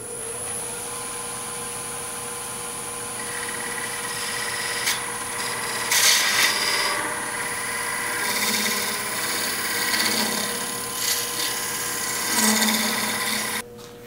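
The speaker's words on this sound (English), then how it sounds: "Now I'm just taking a square scraper and I'm going to just level this off to where I want it." A square scraper levels wood spinning on a lathe, giving a continuous hissing scrape over the motor's steady hum, with brief louder bursts where the tool bites harder.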